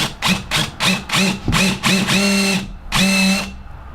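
A power drill whirs into a pre-drilled hole while installing a plaque, in a series of short bursts, about seven pulses, the last two longer, close and loud.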